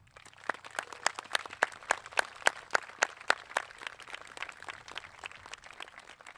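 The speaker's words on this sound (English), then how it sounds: "give a warm round of applause to thank the people most responsible for your achievement here today" Scattered clapping at a high school graduation ceremony, a light, fairly thin round of individual claps that peaks in the middle and then fades out.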